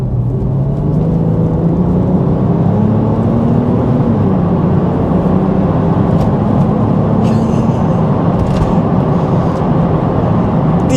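A Porsche 911 Turbo 997 cabriolet pulls away from first gear, its engine a steady refined whir that climbs in pitch as the car gathers speed, heard from inside at a constant loudness with no talking.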